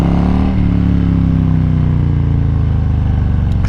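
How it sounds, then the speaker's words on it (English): A 2022 Harley-Davidson Low Rider S with its 117 engine runs loud and close, a steady deep rumbling idle and rev with strong low harmonics, a slight pitch dip early on and a brief click near the end. "you're here watching me ride my 22 Harley Davidson Lowrider S"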